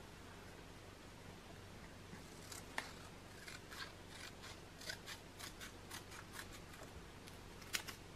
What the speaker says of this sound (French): on va découper les lignes qu'on a tout simplement tracées